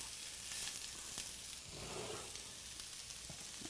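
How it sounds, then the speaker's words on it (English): Onions sauté in oil in a skillet, giving a soft, continuous sizzle with faint crackles throughout. "We're first going to start sauteing our onions."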